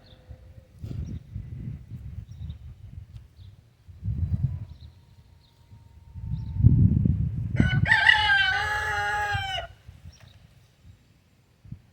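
A rooster crows loudly once, a long cock-a-doodle-doo rising over low rustling and scratching in a quiet yard.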